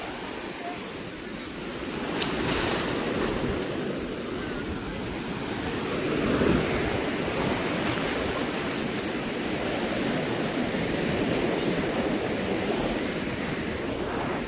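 Sea waves crash on the shore at Somnath, Gujarat, a steady broadband wash of surf with a swell around the middle, continuous and fairly close, with no talking.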